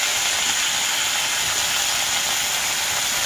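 Steady loud sizzling hiss as dhenki greens hit a hot pan, a dense continuous frying noise up close with no talking.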